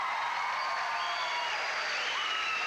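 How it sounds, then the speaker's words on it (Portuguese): Studio audience applause on a 1998 Brazilian live TV variety show, a steady, fairly faint wash of clapping lasting a few seconds with no talk over it. "Palmas pra jacaré."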